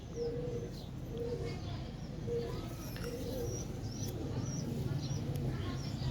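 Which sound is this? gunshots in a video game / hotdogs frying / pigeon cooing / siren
pigeon cooing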